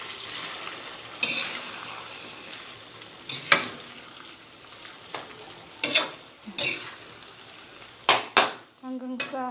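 Sardines fry in a pan with a close, steady sizzle, broken by sharp clacks of a utensil against the pan as they are turned and stirred, with a brief voice near the end.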